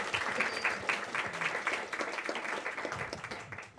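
At a Peru–Japan conference on paranormal mysteries and urban legends, an audience applauds a speaker named Pedro with steady, moderately distant clapping that thins slightly toward the end, with no talking over it.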